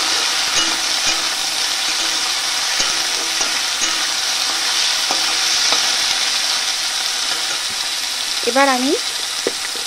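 Taro stolons (kochur loti) frying in a pan give a steady broadband sizzle with occasional stirring clinks, while someone speaks briefly near the end.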